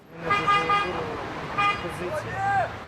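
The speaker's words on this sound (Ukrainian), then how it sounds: "Його вітають клаксонами автомобілісти." Car horns honk repeatedly in greeting on a city street, with several toots from passing traffic and a voice speaking over the noise.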